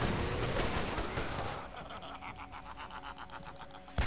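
Rapid gunfire from a mass machine gun in the video game Borderlands, a dense loud burst for the first second and a half, then quieter repeated shots trailing off.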